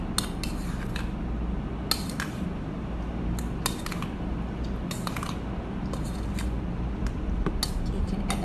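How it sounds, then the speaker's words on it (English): Fruit dessert being mixed in a bowl with a utensil, a run of close clicking and clinking scrapes in irregular bursts over a low steady background. "Mix it well."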